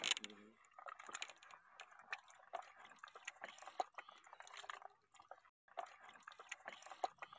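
Raw green mangoes are washed in water, with irregular splashes, drips and sloshing close by through most of the stretch and a brief lull before the splashing resumes.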